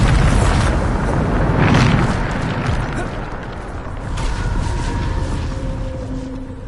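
Bombarda spell explosions in Hogwarts Legacy, a loud low booming blast that swells near the start and then rolls into a sustained rumbling wash with faint tonal ringing as it fades, speech-like sound mixed in.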